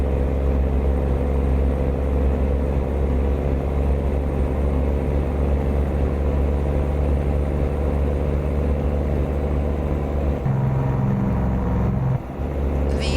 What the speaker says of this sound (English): it's a 34060 Caterpillar, straight pipe sounds